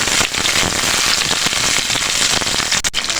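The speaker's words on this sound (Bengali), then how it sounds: "বেগুনগুলোকে ভেজে নেব উল্টিয়ে পাল্টিয়ে বেগুনগুলোকে সুন্দর করে" Pieces of eggplant (brinjal) fry in hot oil with a dense, steady crackling sizzle, close and continuous throughout, with no talking.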